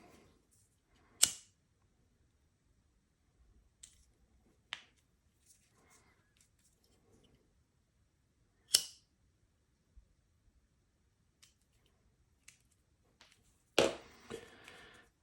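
Scissors cut the two paracord ends off a braided woggle, giving a few sharp, isolated snips spaced seconds apart in a quiet room, close by with faint handling between.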